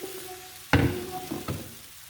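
A keto pancake hits butter in a hot pan, with a sudden close sizzle and clatter that quickly fades, followed by a second, softer burst.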